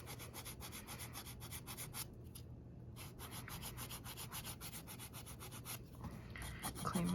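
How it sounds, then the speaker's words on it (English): A nail file rasps back and forth over acrylic nails, shaping and cleaning up the sides in close, steady rhythmic strokes with a couple of brief pauses. "now I'm gonna go in with my file again, clean up these sides"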